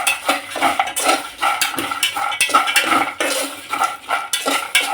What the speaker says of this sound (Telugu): ఇవి కూడా కొంచెం రోస్ట్ చేసుకోవాలి